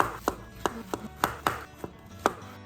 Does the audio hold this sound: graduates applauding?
no